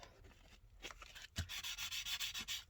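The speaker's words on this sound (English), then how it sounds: "You could, if you want to, sand this up." A shiny dollar-store flash card is sanded by hand, a brief scrape followed by a run of rapid, rhythmic rubbing strokes, close and fairly quiet.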